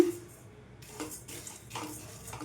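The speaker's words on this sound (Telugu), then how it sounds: "మనకి ఈ మినప్పప్పు ఎంత మంచిగా వేయించుకుంటే అంత బాగుంటుందండి" Urad dal being dry-roasted for halwa, with quiet, irregular scraping and rustling as a spatula stirs the lentils around a pan, faint and close, with no voices.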